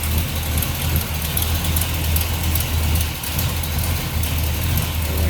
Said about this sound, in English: But smooth running engine. Nice little rumble coming out of that 400.